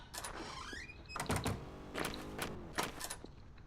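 Door closing in the Garry's Mod DarkRP video game: several short mechanical clunks and sliding thuds spread across a few seconds, moderately loud, with a brief rising whir near the start.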